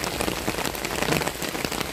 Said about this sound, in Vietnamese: đang mưa mây cũng nhỏ chứ không có lớn lắm